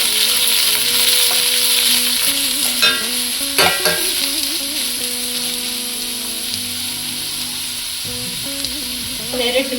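Carrots, peas and cabbage sizzling loudly in a pan for ragi upma while being stirred, with steady close frying noise and repeated scraping strokes of a spoon.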